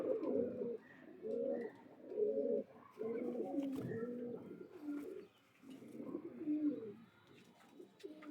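Pigeons, among them a female Madrasi pair, coo in repeated low throaty phrases that pulse steadily and overlap, close but soft, with no voices.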